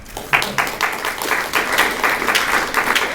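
Listeners at a poetry reading clap after a poem, a close, lively patter of many hands with distinct individual claps standing out, steady throughout with no voices.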